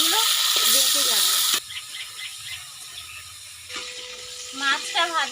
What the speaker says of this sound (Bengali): মাছটা ভাজার সময় কড়াইতে এভাবে মাছগুলো নাড়তে থাকবে,